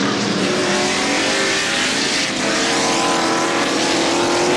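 Rusty Wallace's NASCAR Winston Cup race car at Sonoma Raceway in 1991, its engine a loud, continuous roar that fills the whole stretch with barely any change in level.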